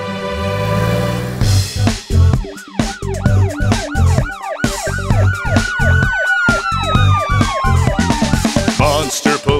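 Cartoon monster police car siren in a kids' panda cartoon: a loud, rapid wailing siren that rises and falls in quick repeated sweeps, with thumping music underneath and no speech.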